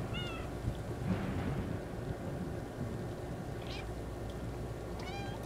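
A cat in the video game Stray meows a few times, short faint mews over a rumbling windy ambient soundscape.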